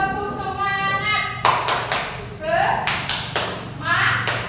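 A classroom group does a rhythmic 'tepuk semangat' clap during a stretching break, sharp claps in a quick pattern mixed with voices chanting and talking nearby.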